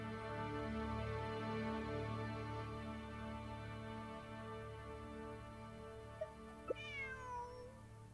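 A cat meows in Genshin Impact, a couple of short rising-falling calls late on, heard faintly over a steady humming game music bed with layered sustained tones.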